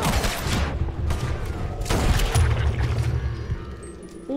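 Gunfire in Red Dead Redemption 2, a rapid volley of sharp shots and booms over a busy game soundscape, loud and close, with a voice briefly heard.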